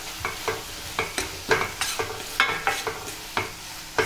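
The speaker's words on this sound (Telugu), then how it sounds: "ఇవన్నీ మిక్స్ అయ్యేలాగా కలుపుకుందాం ఒకసారి." Chili powder, salt and coriander powder being stirred into a spring onion and tomato curry in a sizzling pan, with steady rhythmic spoon scrapes roughly every half second over a continuous fry, close and clear, no talking.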